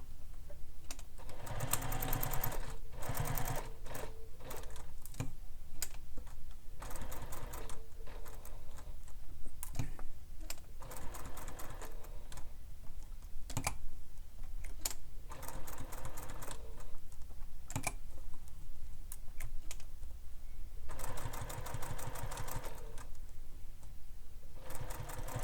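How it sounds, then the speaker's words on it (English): A sewing machine stitches around a small panel of a handmade bag, a steady fast mechanical chatter with brief pauses and restarts, close and alone with no talk. "we're going to stitch that down all the way around the small panel"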